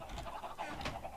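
Minecraft chickens cluck in a soft, continuous chatter over a steady background hum, faint and busy with no talking.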